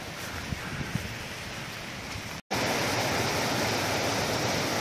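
Continuous rushing water from a stream on Dartmoor, like a small cascade, steady and broadband, with a brief dropout midway before it returns louder.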